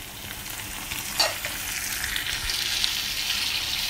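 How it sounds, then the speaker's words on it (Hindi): Three slices of small onion frying in a pan until pink: a steady, hissing sizzle close by with a brief stir or scrape in the middle, moderately loud and continuous, no speech. "फ्राई करेंगे।"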